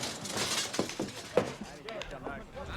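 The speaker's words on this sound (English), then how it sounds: "They have to break the glass." Glass shattered deliberately during a rowdy period-drama scene, a single sharp crash with bright scattering fragments, heard under loud shouting voices and crowd noise.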